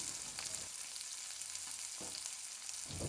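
Green chillies fry on a tawa with a soft, constant sizzling hiss, broken by a few brief scraping strokes as they are stirred.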